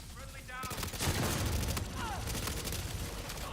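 Rapid machine gun fire crackles in a dense, loud fusillade during a video game firefight, sustained bursts with sharp rattling shots layered together.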